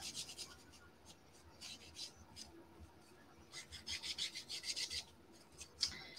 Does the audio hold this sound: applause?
no